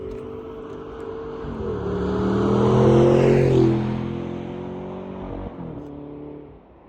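2008 Audi R8 V8 with R-Tronic transmission driving, engine note rising through a steady pull, shifting and easing off before settling into a lower drone, heard alone at moderate loudness.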